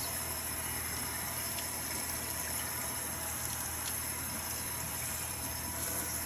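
Warm water running steadily while an Ikonart stencil is washed out, a constant low gushing hiss with faint splashes, even in level throughout and no talking.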